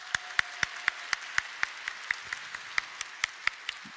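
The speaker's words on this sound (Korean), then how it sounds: "격려와 사랑의 박수 한번 보내주면 좋겠습니다" A church congregation claps for the worship team in steady, evenly spaced beats, about four per second, sounding faint and distant in a large room.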